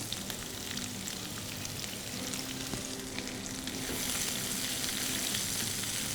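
Sliced onions fry in oil with bay leaf, cinnamon, cloves, cardamom and cumin, a close, continuous sizzle with scraping stirs throughout, rising slightly louder in the second half, no voices.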